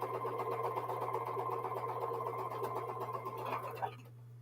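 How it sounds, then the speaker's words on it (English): A sewing machine runs steadily at close range for about four seconds, stitching jelly roll quilt patches with a constant low hum and rapid needle chatter, then stops abruptly. "As I got ready to sew my next 4 patches together"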